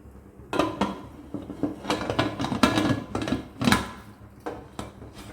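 A metal lid is set onto a cooking pot, making a series of close clanks and scrapes of metal on metal in separate knocks, with no talk.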